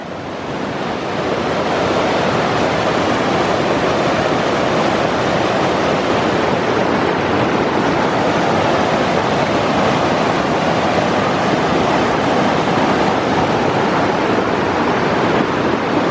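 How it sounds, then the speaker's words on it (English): Shingle Creek swollen with spring snowmelt rushes loudly and steadily nearby, a constant broad roar of churning water that swells in after the first second and carries on without a break or any voices. "Lots of snow melt up here this time of year. Look at that creek."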